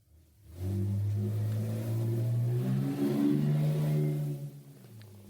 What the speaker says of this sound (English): There's a revving car outside.